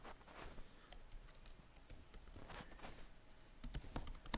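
Keys tapped on a computer keyboard while a Python program is typed, a fairly quiet, irregular patter of clicks running through the whole stretch, with a denser burst of strokes near the end.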